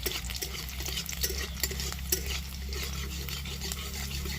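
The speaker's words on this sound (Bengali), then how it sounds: "রসুন কুচিটা একটু লাল করে ভেজে নিতে হবে" Chopped garlic fries in a pan, giving a low steady sizzle with scattered clinks and scrapes of a utensil stirring against the metal.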